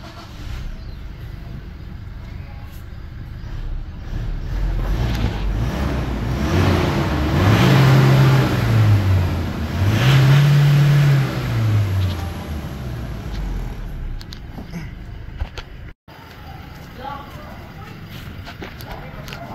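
A Toyota Innova diesel engine with a Bidot exhaust, freshly remapped, idles at its first start, then revs up twice in rising and falling surges before settling back to a steady rumble, loud and near.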